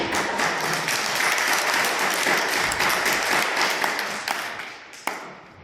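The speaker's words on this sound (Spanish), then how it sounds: "un aplauso, por favor, para nuestro ponente" Seminar attendees applaud a guest lecturer in a hall, a thick, continuous burst of clapping that holds strong and then tapers, with a few last distinct claps near the end.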